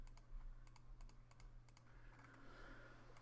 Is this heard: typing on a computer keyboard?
yes